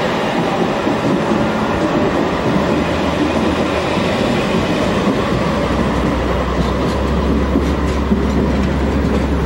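A tram rolls past on its rails in Istanbul, a loud, steady rumble with low wheel noise and faint clatter that holds for the whole stretch, with no talking.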